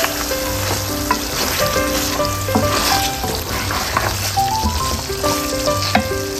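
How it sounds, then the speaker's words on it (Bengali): Beef and potatoes sizzle steadily in a pan during bhuna for a Bangladeshi beef curry, a close, continuous frying hiss with occasional stirring scrapes and clinks. "মাংসটা কি সুন্দর করে বোনা হয়েছে দেখেন।"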